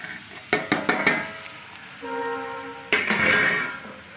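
Lentils are poured into a pan of hot oil and fried potatoes while making vegetable khichuri. A few sharp utensil clanks come first, then a loud, rushing sizzle bursts up and continues.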